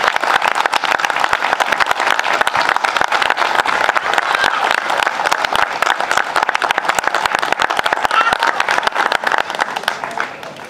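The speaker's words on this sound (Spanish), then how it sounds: "ese fuerte aplauso para la banda y a su director" Audience applause for a municipal music band in Telde and its director: dense, loud, sustained clapping from a large crowd, running evenly for about ten seconds before easing slightly at the end.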